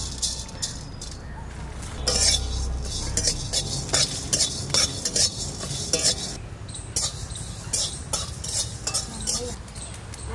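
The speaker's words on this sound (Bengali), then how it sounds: "কড়াইটা চাপাই দিলাম, একটু ধনে আর একটু জিরে আমি একটু ভেজে নেব।" Coriander and cumin seeds dry roast in a wok in a Bengali village kitchen, a spatula scraping and stirring in repeated rattling strokes with metallic clinks, close and moderately loud.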